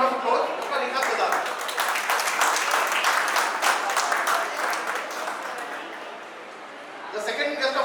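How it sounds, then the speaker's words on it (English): Audience at a business networking event gives a big round of applause to welcome a guest of honor, dense and loud, easing slightly before a fresh swell at the end, with voices mixed in. "So let's welcome the big round of applause, Dr. Rekha Pradhan."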